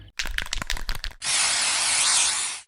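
Spray paint can used for graffiti, first several quick rattling bursts in a rapid rhythm, then a long steady hiss of spraying, close and fairly loud, ending abruptly.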